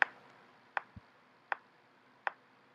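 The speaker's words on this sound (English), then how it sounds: "I just want you to match the steady beat with your hi-hat sound." Four crisp, evenly spaced hi-hat ticks keep a steady beat, quiet and alone with nothing else playing.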